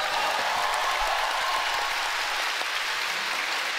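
Audience applause at a Final Fantasy XIV Fan Festival opening keynote in London: a large crowd claps steadily and loudly, a dense, even wash of hand claps filling the whole stretch.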